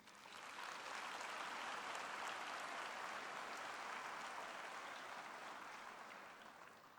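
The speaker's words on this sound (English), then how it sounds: "give yourselves, as well as your families, lecturers, and supervisors, a resounding round of applause for your significant achievements" Sustained crowd applause at a university Faculty of Economic and Management Sciences graduation ceremony, a dense, steady wash of many hands clapping for about seven seconds with no talking, easing slightly at the end.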